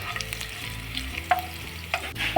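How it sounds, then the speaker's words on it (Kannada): Paneer cubes frying in hot oil over medium flame, a steady close sizzle broken by scraping stirs and a few sharp pops and clinks of the spatula against the pan. "ಇದು ಗೋಲ್ಡನ್ ಬ್ರೌನ್ ಬರೋವರೆಗೂ ಫ್ರೈ ಮಾಡ್ಕೊಳ್ಳೋಣ."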